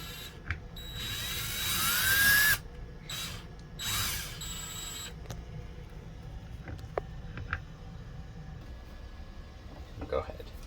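A power drill with a 5/8 inch bit whirs in two short bursts, enlarging a hole during an RV composting toilet install, followed by quieter scattered clicks and handling noises.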